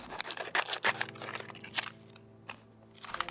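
Scissors snip open the plastic packaging of a set of HyperX Pudding keycaps, giving several close, crisp cuts and crinkles, with quiet handling noise in between.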